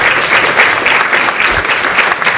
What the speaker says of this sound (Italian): Io mi associo all'applauso a Paola Binetti